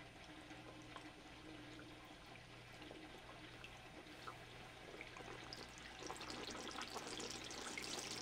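An Eheim Professionel 4+ 600 canister filter pushes water through after purging its air, giving a faint, steady rushing and trickling flow that grows slightly stronger toward the end.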